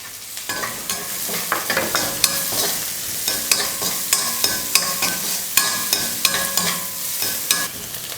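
Garlic, green chilies and sliced onion frying in oil in a pan, a steady close sizzle broken by repeated sharp scraping stirs of a spatula, no voices.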